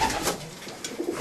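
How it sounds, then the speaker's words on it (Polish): A pigeon coos close by, a short soft throaty burble with no talking around it. "To jest gołąb"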